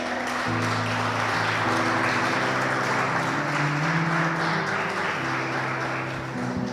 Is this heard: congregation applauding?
yes